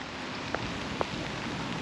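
Steady rain falls on a wet Sunday beside a narrowboat cafe, a soft broadband patter that stays even throughout, with two brief louder drops or taps standing out.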